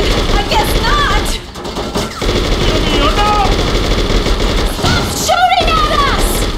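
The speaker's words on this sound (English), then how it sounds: "Stop shooting at us!" Automatic gunfire rattles continuously and loudly in a chaotic street shootout, mixed with shouting voices throughout, with brief lulls before bursts resume.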